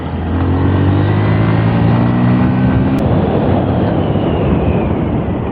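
A motorcycle rides steadily with a loud, continuous engine drone and road rumble after its chain sprocket was changed; the low engine tone holds for a few seconds, then shifts as the ride continues.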